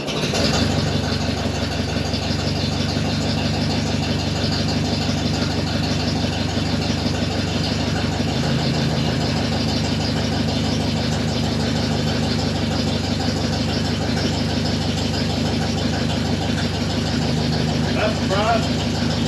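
A 1954 Ford NAA tractor engine cold-starts at 33 degrees, catching almost at once, then settles into a loud, steady, close idle with a rough mechanical rumble that holds throughout.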